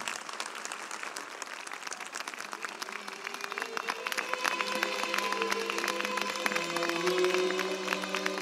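An audience at a 1983 televised music festival applauds a singer with sustained, dense clapping, while tonal music begins rising underneath and grows more prominent toward the end.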